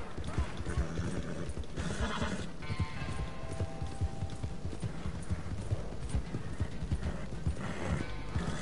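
Rapid rhythmic hoofbeats of a galloping horse in Red Dead Redemption 2 Online drum continuously, with a brief whinny and faint voices mixed underneath.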